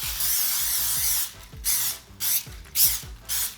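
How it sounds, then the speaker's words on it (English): A few short bursts of cooking spray hiss onto a plate in quick succession, each a brief sharp spritz close up, with clicking from the nozzle between them. "We have to spray our plate really well."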